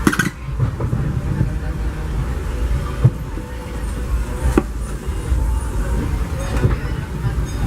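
Disneyland Railroad passenger train pulled by steam locomotive Ernest S. Marsh #4, a steady low rumble of rolling cars with rail clatter and a few sharp clanks and squeals, heard close from aboard.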